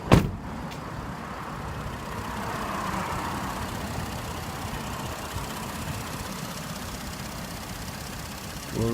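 A 2012 Ford F-150 XLT EcoBoost idling, a steady low engine rumble heard close by, opening with a brief thump and no talk.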